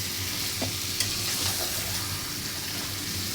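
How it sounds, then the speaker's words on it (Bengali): Meat sautés in a pan with spice paste, a constant low sizzle under a few sharp scrapes and taps from a spatula being stirred through it. "মাংসটা দিয়ে দিলাম মশলাটা কষা কষে আসে"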